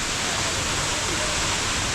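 Jang (Nuranang) waterfall in Arunachal Pradesh pours as a dense, steady broadband roar, loud and continuous throughout with no breaks.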